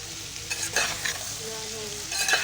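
Onions frying red in a pan, a continuous moderate sizzle with stirring scrapes and a few clinks of a spoon, close by with no talk.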